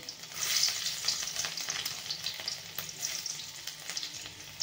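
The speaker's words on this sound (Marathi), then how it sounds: "त्यात टाकून घेणार आहे आपण लसूण" Garlic frying in very hot oil gives a continuous bright sizzle with fine crackling spatters, steady and close, with no one talking.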